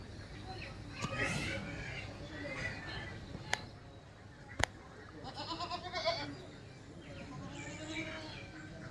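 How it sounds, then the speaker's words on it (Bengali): A few bleats from goats kept on a raised platform in a flooded area, some wavering and drawn out, against a quiet background with a couple of sharp clicks. "এখানে আসলে মাসান বানিয়ে ছাগলগুলো রাখা হয়েছে"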